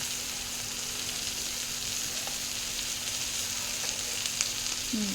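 Peanuts frying in a pan, a soft steady sizzle with faint crackles and a light stir near the end, no talk.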